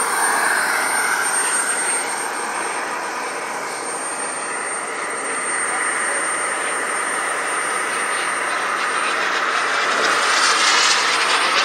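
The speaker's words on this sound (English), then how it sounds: "Rolling out on the runway. A lot of airplanes here." Steady roar of an airplane engine rolling along a runway, broad and continuous, with a faint high whine running throughout.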